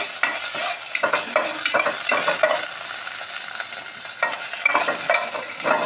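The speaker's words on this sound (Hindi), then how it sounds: "ये ज़ीरे को हल्का सा इसमें मिक्स कर दिया ऑयल के अंदर, सिर्फ 1 चम्मच ऑयल डलेगा" Cumin seeds sizzling in a single spoonful of oil while being stirred for a vegetable chicken roll, with a continuous close frying hiss and repeated scraping strokes of the spoon, and no voices.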